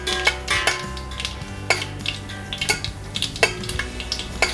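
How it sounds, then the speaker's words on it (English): A spoon clanks and scrapes against a cooking pot as whole spices and cinnamon are quickly stirred in hot oil for chicken vindaloo, with several sharp close metallic knocks over a faint background hiss. "Quick stir."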